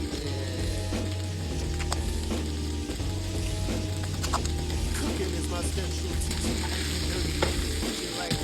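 Lamb and a cumin dry spice mix sizzle and crackle in a hot stir-fry pan, with steady loud frying, scraping stirs and occasional clinks of a utensil against the pan while a low hum runs underneath.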